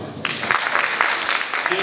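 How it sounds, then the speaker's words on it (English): Audience at a Pan-African forum in Kigali clapping to welcome a guest, a loud burst of many hands that starts abruptly and continues in dense, slightly uneven claps, with some voices mixed in. "Give him a hand clap."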